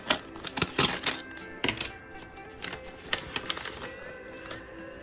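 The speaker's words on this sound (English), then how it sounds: "If I can get the envelope open." A paper envelope is torn open by hand in a series of sharp, close crinkles and rips, coming in uneven bursts with quieter rustling between them.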